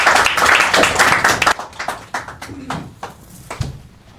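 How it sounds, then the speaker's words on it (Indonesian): A comedy show crowd claps for a stand-up comedian taking the stage, dense and loud at first, then dropping to scattered individual claps with a few voices underneath. "Beri tepuk tangan untuk Ben Danio."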